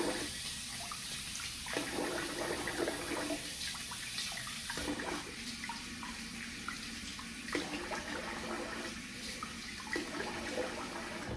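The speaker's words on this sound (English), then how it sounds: "I'm gonna rinse the face here" Water runs steadily from a tap during rinsing of the face after a shave, with continuous close splashing and brief changes as hands move through the stream.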